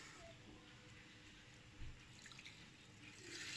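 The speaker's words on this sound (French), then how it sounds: "je vais rajouter le lait" Milk poured into a thickening béchamel for a bread and minced-meat gratin, a steady soft liquid rush running throughout with a brief louder splash partway through.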